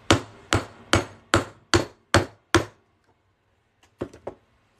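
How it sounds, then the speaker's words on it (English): Seven sharp, evenly spaced hammer blows drive a half-inch metal punch through a quarter coin, loud and close, followed by a pause and a couple of lighter taps. "just punch a hole right in this quarter. This is a half-inch punch for anyone who's curious."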